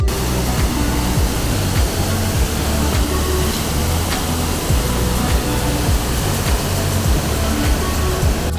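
A powerful waterfall on a Costa Rica hike gives a loud, unbroken roar of rushing water that holds steady throughout, with no voices over it.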